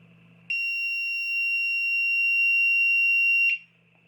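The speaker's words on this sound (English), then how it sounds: "Quite a loud buzz from that buzzer" The buzzer on a Matek F405 Wing flight controller sounds one loud, piercing continuous tone lasting about three seconds as the system arms, starting and stopping abruptly over a faint low hum.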